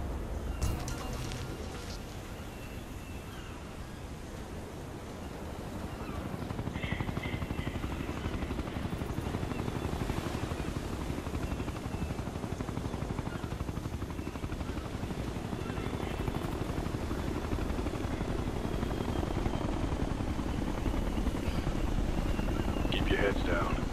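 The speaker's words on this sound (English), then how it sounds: "If that chopper spots us, it'll get messy real fast." A helicopter in the PC game Ghost Recon: Future Soldier drones steadily overhead for the whole stretch, its rotor wash growing louder partway through, with game voices and rain-like hiss mixed underneath.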